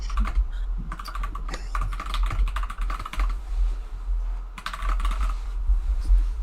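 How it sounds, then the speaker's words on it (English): Clattery computer keyboard tapped in bursts of quick, uneven keystrokes with short pauses, close and fairly loud over a low background hum, no speech. "your keyboard is noisy."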